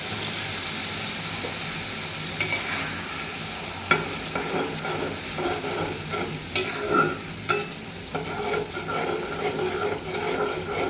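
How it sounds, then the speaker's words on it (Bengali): Fish eggs fry in a spicy masala while being stirred, a steady sizzle broken by scraping stirs and a few sharp clinks of the spoon against the pan, close by and without speech. "এরপর আমি এই ডিমগুলো দিয়ে দেবো।"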